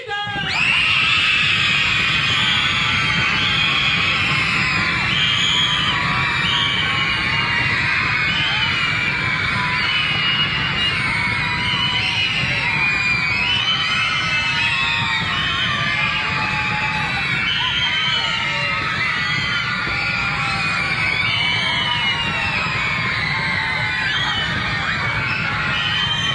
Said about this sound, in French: veuillez applaudir et accueillir comme il se doit